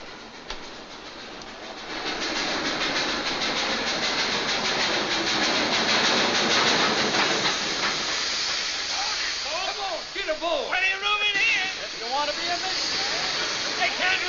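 A train at Cleburne Station rumbles and hisses steadily, with the rhythmic clatter of carriages, and near the end a few raised voices ring out over the noise.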